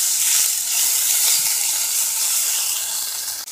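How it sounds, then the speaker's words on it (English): Onions hitting a pan of frying ramen noodles sizzle loudly and steadily, a bright continuous hiss close up with no talking. "go ahead and add your onions into it"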